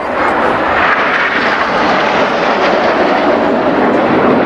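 Red Arrows jets roaring through a slalom crossing at an air display at RNAS Yeovilton, a loud, steady, broadband engine rush filling the whole clip with no talk.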